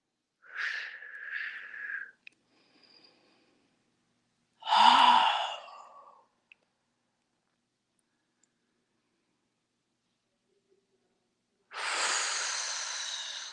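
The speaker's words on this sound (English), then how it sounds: "taking nice deep breaths in and out" Slow, deep breaths during a tai chi class, one long inhale and exhale followed later by another, soft and close in an otherwise quiet room.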